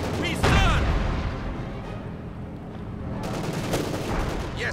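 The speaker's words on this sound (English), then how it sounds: "harassment with the MG42 in the north" Artillery and MG42 machine gun fire in a World War II strategy video game, a dense rumbling barrage with a sharp burst near the start and crackling bursts near the end, heard alone without talk.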